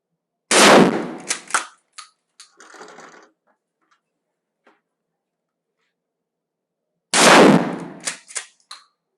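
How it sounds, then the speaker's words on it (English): A Mossberg Shockwave 12 gauge shotgun fires two loud, close blasts several seconds apart, each followed by a brief echo and clatter, shooting into sheetrock at a range. "we're going to shoot the 12 gauge now"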